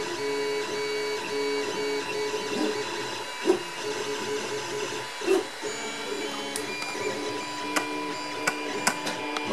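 A 3D printer on its fast setting lays down orange filament with a continuous whirring motor drone, rhythmic stepper buzzing and occasional sharp ticks, close and fairly loud.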